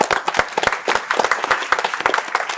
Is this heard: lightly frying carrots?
no